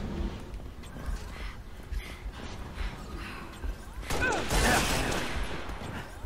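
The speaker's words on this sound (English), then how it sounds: "They're shooting." Rapid gunfire in a chaotic Halo Reach multiplayer battle, bursts of shots rattling over a dense background of game noise that swells louder near the end.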